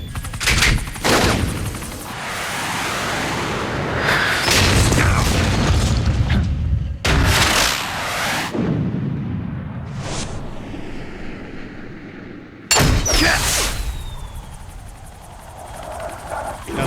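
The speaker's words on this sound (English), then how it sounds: "Adesso il missile esplode dietro e esce scritto arancino." A missile explodes in the Metal Gear Solid: The Twin Snakes video game with loud booming blasts and gunfire-like crackling bursts, dense and continuous, punctuated by several sharp explosive hits.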